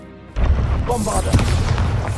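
A short quiet lead-in, then a Bombarda blasting spell in Hogwarts Legacy bursts with a sudden loud boom and rolls on as dense, rumbling debris noise with crackling impacts.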